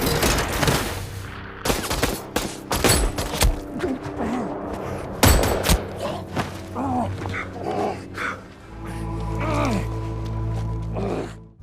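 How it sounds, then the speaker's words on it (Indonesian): Rapid volleys of gunshots crack through an action-film gunfight, loud bursts and single reports layered over a busy soundtrack with music and mechanical clatter, easing into a low sustained rumble near the end. "dia pun langsung mendatanginya dan langsung adu baku tembak"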